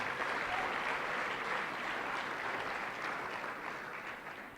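Audience at an awards ceremony gives a sustained round of applause for women's soccer honorees, a dense, even roar of many hands clapping that holds steady and tapers slightly toward the end.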